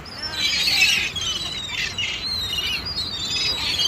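Pet birds squawk while being fed, repeated harsh, high calls close by, overlapping in bursts over a few seconds above a faint background rustle.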